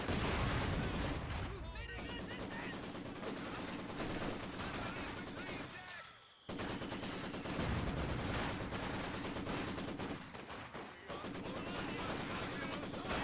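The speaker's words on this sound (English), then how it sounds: "machine gun started firing" Machine gun fire in the strategy game Company of Heroes, dense rapid rattling bursts continuing almost without pause over a busy battlefield din, briefly cut twice, with someone talking over it.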